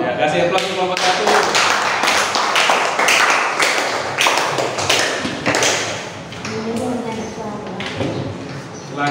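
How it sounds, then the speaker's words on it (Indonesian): Classroom applause for a student group, a burst of many hands clapping loudly and fast for several seconds, then tapering off, with voices mixed in. "Ya, kasih aplaus kelompok 1."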